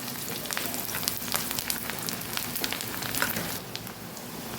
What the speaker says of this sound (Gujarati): ડુંગળી આપણે ગુલાબી રંગની થાય ત્યાં સુધી આપણે સાતળવાની છે